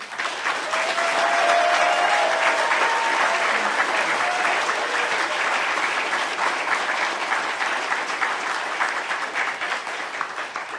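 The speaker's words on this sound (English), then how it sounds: "Ladies and gentlemen, please join me in a round of applause for our newest inductees" Sustained applause from a seated audience at a military NCO induction ceremony for the newest inductees, a dense, steady wash of many hands clapping that holds at an even level and fades slightly at the end.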